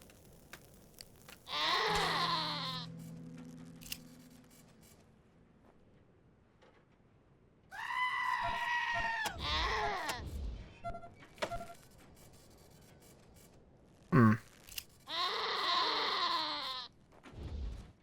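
Goats bleating in the game Wasteland 2, several separate wavering cries spaced apart with quiet gaps between them, fairly close and clear.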